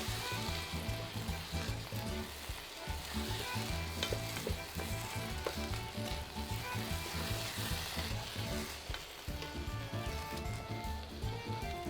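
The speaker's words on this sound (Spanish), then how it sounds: "Salamos y rehogamos el arroz unos 30 segundos sin líquido" Rice for a mushroom risotto sautés dry in a hot pan, giving a steady, dense sizzle and crackle with stirring scrapes throughout, close and continuous, with no talking.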